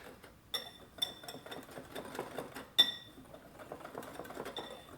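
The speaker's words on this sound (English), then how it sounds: "Take this whisk and we will just give this a good whisk" A whisk beats fudgy brownie batter with cocoa powder and flour in a bowl, making quiet, rapid, irregular tapping and clinking against the bowl's side, with a few sharper metallic knocks standing out.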